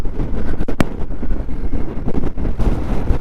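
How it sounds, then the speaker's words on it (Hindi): Strong mountain wind batters a rider on an Xpulse 200 motorcycle along a dangerous Himachal Pradesh road, a loud, rough rumble of gusts buffeting the microphone in uneven surges, with one sharp crack partway through. "बहुत तेज हवा है यार, पूरा हिल गया मैं बाइक पे।"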